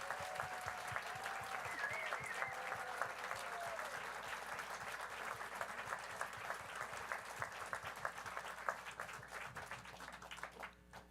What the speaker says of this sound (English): can I invite another applause for this wonderful documentary?